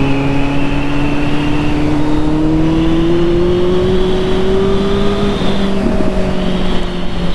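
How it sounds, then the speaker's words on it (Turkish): A Kawasaki Z800 motorcycle accelerates hard on the road, its engine note climbing steadily and continuously under heavy wind rush across the microphone, loud and close throughout. "bir de hızlı hızlanıyor ya motor."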